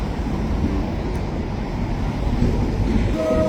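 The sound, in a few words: freight train pulling in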